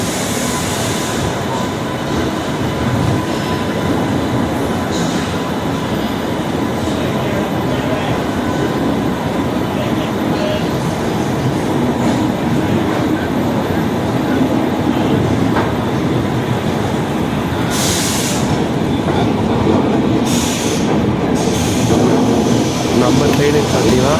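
A Chennai-to-Bangalore double-decker express hauled by a WAP7 electric locomotive produces a continuous, loud rumbling roar of running wheels and hum, steady throughout with a few brief hissing bursts near the end.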